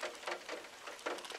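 Steady rain patters on a tin roof, a dense hiss with soft bursts of heavier drumming, quite faint and continuous, with no voices.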